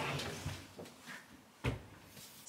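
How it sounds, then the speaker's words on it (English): A wardrobe door is opened indoors: a few soft wooden knocks and clicks from the handle and hinge, with one sharper thump near the end, heard close and fairly quiet against light room noise. "I will open up the door and we'll have a little look inside"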